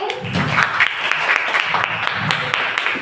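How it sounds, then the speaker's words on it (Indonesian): A group of students claps together in a classroom session, a lively burst of hand clapping with some rhythmic unison and faint voices mixed in. "Tepuk tangan sekali lagi."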